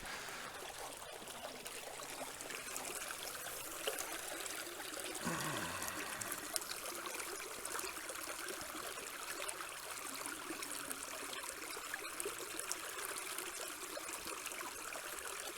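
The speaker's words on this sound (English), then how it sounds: "let me wash this bad boy off" Water trickles and splashes steadily as a freshly dug-up relic from a treasure hunt is rinsed off outdoors, a faint continuous flow with no voices.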